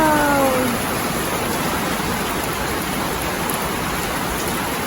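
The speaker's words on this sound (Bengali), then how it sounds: "একটু আগে বৃষ্টি ছিল না, এখন বৃষ্টি নেমে গেছে।" Rain pours down outside in a steady, loud hiss of drops on surfaces, dense and continuous throughout, with a brief tonal chirp at the very start and no talking.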